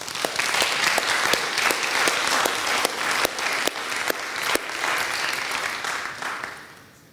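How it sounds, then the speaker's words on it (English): A full audience gives sustained, dense applause in a conference hall during closing remarks of a security forum, loud and continuous before tapering off at the very end. "I think this really deserves a special applause."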